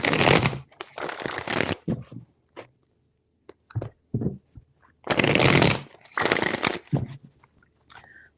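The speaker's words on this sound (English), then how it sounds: "3 shuffles." Tarot cards being shuffled by hand in several bursts of riffling and flapping, close and loud, separated by quiet pauses with small taps and card handling.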